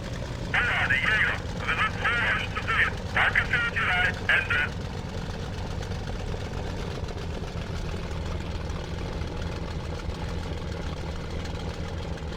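A WWII-era aircraft engine in the flight game IL-2 Sturmovik drones at a steady, low idle-like rumble throughout, with a brief burst of radio chatter or game voices early on.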